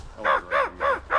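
Fish crows calling on a spring coast, four nasal caws in an even, steady rhythm, fairly close and clear over a quiet low background.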